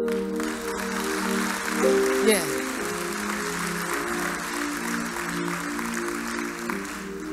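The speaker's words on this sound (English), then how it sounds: "now clap for yourself." Conference audience clapping steadily throughout, a continuous sustained applause under a held musical tone and background music, with a brief spoken word at one point.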